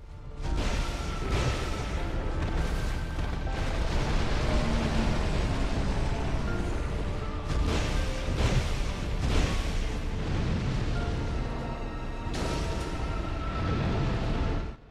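A boss fight in Dark Souls 2 Scholar of the First Sin brings a loud, sustained rumbling explosion blast with booming bursts and dense game effects across the whole stretch.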